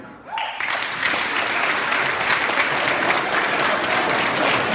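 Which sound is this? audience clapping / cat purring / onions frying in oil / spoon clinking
audience clapping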